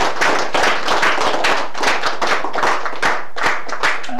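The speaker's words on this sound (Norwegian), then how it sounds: "Men skal vi gi Dåsnes en klapp for at han er vært her" Applause from a live audience honoring an elderly man recounting memories of the war, with dense steady hand clapping sustained for the full stretch, loud and near, no voices over it.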